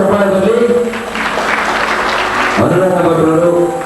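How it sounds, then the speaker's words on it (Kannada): An audience at a film event breaks into loud applause, a dense burst of clapping in the middle, with a voice talking just before and after. "ಎಲ್ಲರೂ ಕೂಡ ಸಹಕರಿಸಿ ದಯವಿಟ್ಟು ಒಂದು ಜೋರಾದ ಚಪ್ಪಾಳೆಯಲ್ಲಿ"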